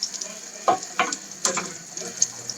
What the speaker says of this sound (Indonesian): Ratakan dulu ini semua margarin di ini teflon.